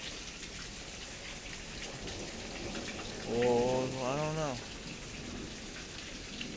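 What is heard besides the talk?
thunderstorm rain and thunder in Tulsa, Oklahoma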